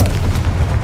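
A Confringo fire-blast spell explosion in the video game Hogwarts Legacy, one short heavy boom with a deep rumbling body, close and loud.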